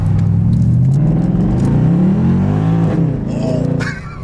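A Mercedes W204 C63 with a full valved exhaust system rumbles loudly while driving, a deep rising engine note that eases off into crackling burbles near the end, with a voice briefly heard over it.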